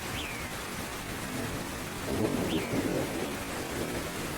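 Cartoon rain pours steadily as a dense hiss, with a low thunder-like rumble swelling midway and a couple of brief bird chirps over the downpour.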